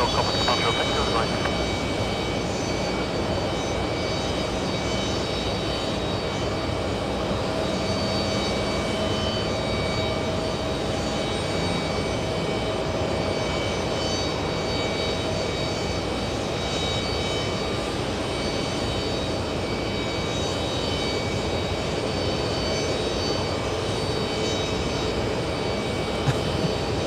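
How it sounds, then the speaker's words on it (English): American Airlines airliner lifting off at JFK Airport, a steady, loud jet-engine roar that holds evenly throughout, with faint voices in places. "American Airlines lifting off as we speak"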